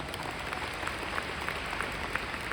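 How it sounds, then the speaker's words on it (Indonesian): Audience applause at a leadership training seminar in Jakarta, a faint, steady wash of distant clapping with a few sharper claps standing out, heard alone without talk. "Beri tepuk tangan meriah untuk semuanya."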